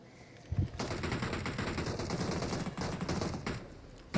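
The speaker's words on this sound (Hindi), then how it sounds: "यहाँ से सामने से मुझे फायर आते हैं" Rapid gunfire from a shooter video game, sustained bursts of shots filling the clip at a loud, steady level with short dips, with no talk over it.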